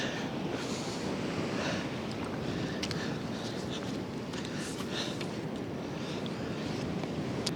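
Ocean waves wash and roll continuously at a fishing spot, a dense broadband roar mixed with wind buffeting the microphone, steady and fairly close with no voices.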